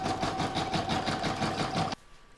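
Embroidery machine quilting stitches across an acorn placemat, a steady rapid mechanical chatter with a constant whine that stops abruptly near the end, close and alone.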